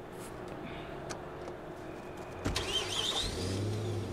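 A car engine turning over and starting in the video game Watch Dogs, a brief crank followed by a rising mid-pitched engine note, heard over constant in-game background noise.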